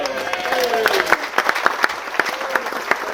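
Wedding reception guests break into a burst of lively applause with scattered claps and a few cheers, loud and close, filling the room for a few seconds.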